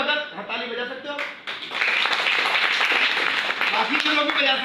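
Audience applause breaks out at a Modicare network marketing meeting, a dense burst of clapping that swells after a man's amplified speech and carries on loudly to the end.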